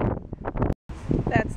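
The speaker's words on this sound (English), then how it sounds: "Oh my god. Windy!" Loud wind buffets the microphone with roaring gusts, broken by a brief moment of silence, while a person talks over it.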